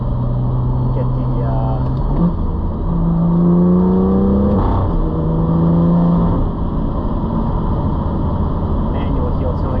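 BMW M2 with a full Valvetronic Designs exhaust heard from inside the cabin as the driver blips the throttle for heel-toe rev matching on downshifts, engine tone climbing and falling in sweeps over a loud, steady drone.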